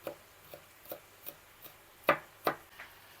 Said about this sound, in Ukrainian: Нарізаю чеснок